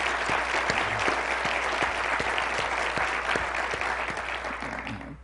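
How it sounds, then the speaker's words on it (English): A lecture-forum audience applauds steadily, a dense wash of clapping with a few louder individual claps, lasting about five seconds before beginning to fade. "Please give her a round of applause."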